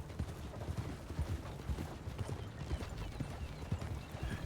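Horse hooves clip-clop in Red Dead Redemption 2, a steady run of hoofbeats under a busy game mix with other background noise.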